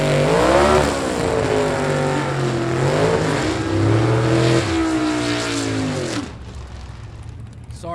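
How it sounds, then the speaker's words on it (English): V8-powered gasser drag race cars idle and rev loudly at a Southeast Gassers Association Spring Nationals qualifying event, a continuous rumbling roar with rising and falling revs that drops away near the end. "let you guys hear those V8s cranking out there"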